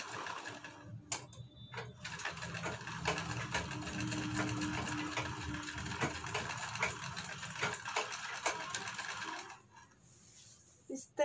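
Sewing machine running continuously as it stitches fabric for a back neck design, a rapid close mechanical rattle for most of the stretch before stopping near the end, leaving quiet room noise.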